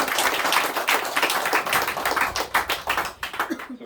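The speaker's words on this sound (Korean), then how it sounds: "우리 한번 박수 한번 쳐" A church congregation claps together at a Sunday worship service. The clapping is brisk and close, with many hands in a fast, uneven rhythm that thins out toward the end.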